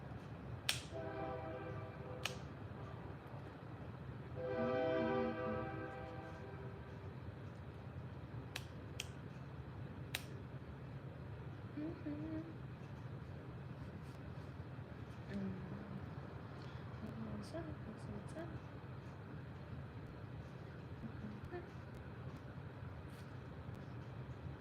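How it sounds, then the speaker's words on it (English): A train passes in the distance behind a home work session, a faint low rumble with a brief harmonic horn-like swell near the start, steady and far off, punctuated by a few sharp clicks. "Can you guys hear the train?"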